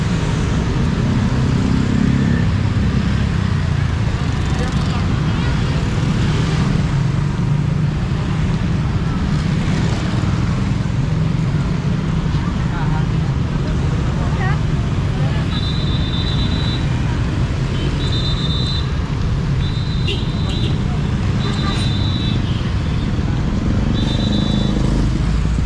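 Road noise from a traffic jam on Batu Aji road in Batam: a constant low rumble of idling and crawling vehicles with wind buffeting the microphone, plus a few short high beeping tones near the end.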